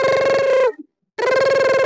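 Electronic telephone ringtone, loud and close, sounding in one continuous ringing burst, a brief silent gap, then a second burst of the same tone.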